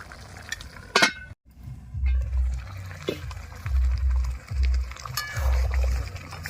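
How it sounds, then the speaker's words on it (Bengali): A lid is set back onto a cooking pot of masoor dal with drumstick leaves, giving one sharp close clink, then a brief hush before a low, uneven bubbling rumble from the pot continues. "আবারও ঢাকনা দিয়ে দেব"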